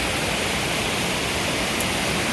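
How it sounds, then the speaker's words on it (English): The Suoi Tien waterfall in Vietnam pours into a lake below, giving a loud, close, unbroken hiss and roar of falling water that never lets up, with no voices over it. "So I guess this is the lake that the waterfall empties into and fills up."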